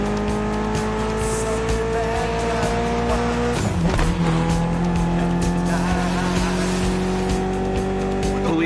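A tuned 280-horsepower Mitsubishi inline four-cylinder in a gymkhana run in The Crew Motorfest video game hums at steady high revs, dips sharply mid-way with tire squeal, then climbs back under light talk.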